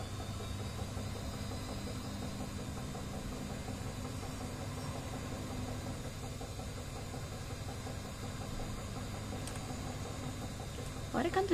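An Edesa washing machine runs, giving a steady low mechanical hum and rumble with faint rattling vibration that stays even throughout, rising slightly at the very end.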